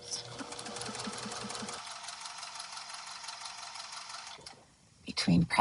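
A sewing machine runs steadily, stitching quilt pieces with a rapid, even mechanical whir for several seconds before stopping, followed by a brief handling noise at the end.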